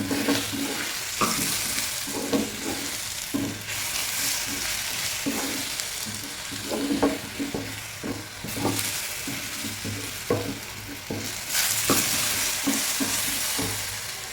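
Grated coconut and ripe plantain frying together in a pan for an evening snack give a steady close sizzle, broken by repeated scraping and clacking from a spoon as they are stirred. No one speaks.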